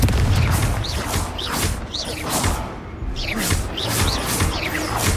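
Repeated booming spell blasts from the Confringo fire spell in the Hogwarts Legacy video game, a dense run of loud explosions with whooshing sweeps and crashing debris, one after another in quick succession amid constant battle noise.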